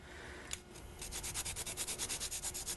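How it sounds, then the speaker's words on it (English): Whole nutmeg is rubbed against a small cheese grater, giving a quiet scratchy rasp that turns into a quick regular series of close grating strokes, with no talking. "I have a nutmeg grater here, and I keep nutmeg pods in a little wooden box."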